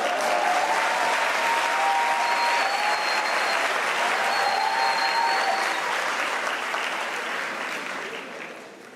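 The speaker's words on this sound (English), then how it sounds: "You can give me a round of applause." A large crowd at a University of South Africa spring graduation ceremony breaks into loud, sustained applause. The clapping stays dense and even for several seconds before gradually fading toward the end.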